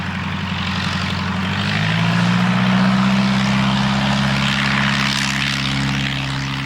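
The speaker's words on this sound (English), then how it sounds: "The de Havilland Tiger Moth was only one of the outstanding designs built at Hatfield." A de Havilland Tiger Moth biplane's propeller engine drones loudly and steadily, its pitch rising and settling into a strong, even hum with a broad wash of propeller and wind noise; no voices.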